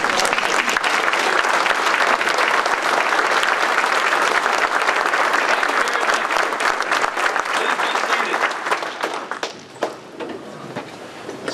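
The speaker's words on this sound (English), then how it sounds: "Let's stand and give a round of applause." A standing audience at a silent auction fundraiser in Kingstree, South Carolina claps loudly and steadily in a sustained round of applause that thins out toward the end.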